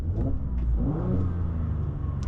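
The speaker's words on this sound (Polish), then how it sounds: "Naprawdę ładnie ten samochód się odzywa." A 2015 Mercedes C450 AMG rated at 367 hp revs hard while accelerating, a loud, close, continuous engine roar whose pitch climbs and falls, heard alone without talk.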